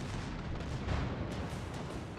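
Secondary guns on the battleship Giuseppe Verdi fire in a naval battle game, a continuous rumble of distant cannon fire with several sharper reports spaced through it.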